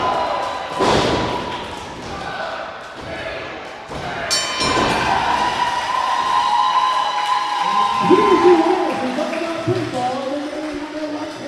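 A wrestler lands hard on the mat after a back body drop in a wrestling match, giving heavy thuds and slams that ring through the ring. Crowd noise and voices run throughout.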